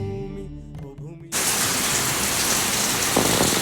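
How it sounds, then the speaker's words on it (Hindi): Heavy rain in the Uttarakhand hills bursts in suddenly after a moment of quieter sound, becoming a loud, dense, steady hiss of downpour that fills the rest of the clip. "चौरंगी पहुँचते पहुँचते क्या खतरनाक सी बारिश हो गई भाई"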